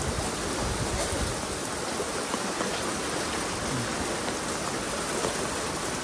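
Heavy rain pours steadily beside a river in flood, a dense, unbroken roar of falling water close by with no voices.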